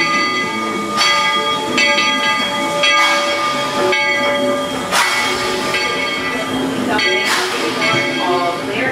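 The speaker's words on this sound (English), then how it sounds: "the Walt Disney World Railroad is now arriving at Fantasyland Station" Walt Disney World Railroad train arriving at Fantasyland Station, with steam hisses, a steam whistle and clanking rail sounds recurring roughly every second or two against a busy, echoing station backdrop.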